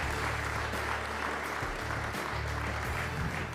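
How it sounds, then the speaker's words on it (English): A crowd at an AGM and awards evening gives the committee a big round of applause, dense and steady clapping at full strength throughout. "I think a big round of applause to this committee."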